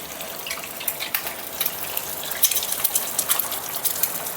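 Four eggs dropped into a pan fry slowly, giving a steady close hiss with scattered crackles and pops and no voices.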